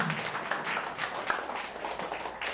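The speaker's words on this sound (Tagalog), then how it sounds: "Isang malakas na palakpak para sa aming Panginoon." Loud congregational clapping at a Sunday worship service of a Christian fellowship, a dense sustained wash of many hands applauding steadily throughout, with faint voices mixed underneath.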